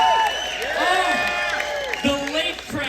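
A crowd aboard a 90s-themed cruise ship cheering and whooping, layered overlapping voices with rising shouts and a loud, sustained wash of enthusiasm.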